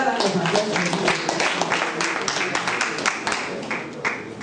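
A presentation audience applauds steadily with dense clapping that holds at moderate loudness for several seconds.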